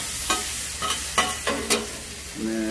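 Vegetables sizzling on a Blackstone griddle as they are stirred, with a steady close hiss broken by several distinct scraping strokes of a spatula.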